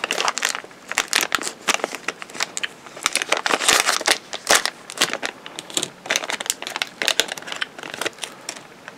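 A small plastic bag crinkles and crackles in irregular bursts as it is handled, holding the clear canopy parts of a Revell-Monogram 1/48 P-51D model kit, close and fairly loud with no talking.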